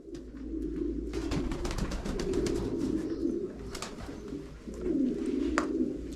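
Live pigeons or doves on a farm coo steadily and close together, a low murmuring chorus running throughout with brief rustles and wing flaps.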